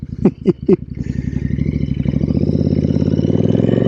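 A Royal Enfield Interceptor motorcycle on loose gravel gives three sharp throttle blips, then settles into a loud, close, steady thumping run.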